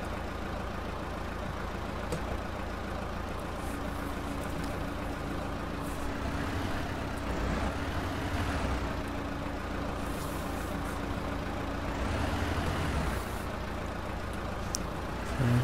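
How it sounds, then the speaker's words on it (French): A truck engine idles in a simulator game with a soundproofed cab, a low, muffled, steady rumble heard from inside with faint air-hiss bursts over it. "Écoutez aussi le bruit du moteur, la cabine est insonorisée."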